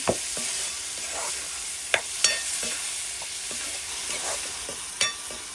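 A spoon stirs jackfruit curry in a pan over a steady sizzle, with a few sharp scraping clicks against the metal spread through the stirring.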